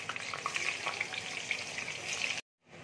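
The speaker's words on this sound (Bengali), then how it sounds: "তেল দেখো গরম হয়ে গেছে, এবার আমি আলুগুলো তেলের মধ্যে ছেড়ে দিচ্ছি" Salted potatoes dropped into hot oil for aloo tarkari, a steady close, bright sizzle that runs loud and even, then cuts off abruptly near the end before a fainter hiss returns.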